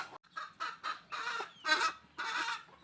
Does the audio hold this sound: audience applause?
no